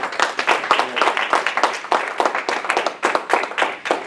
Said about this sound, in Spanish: usted le daba un aplauso al que todo lo merece